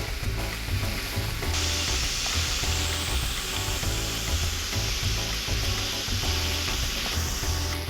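Vegetables for Hakka noodles sauté in a hot pan with a steady, loud sizzle and frying hiss, with occasional stirring scrapes and no voices.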